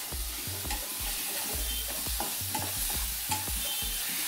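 Soaked sabudana being stir-fried in a pan for sabudana khichdi, rhythmic spatula scrapes and thumps repeating about twice a second over a soft constant sizzle, close up with no voices.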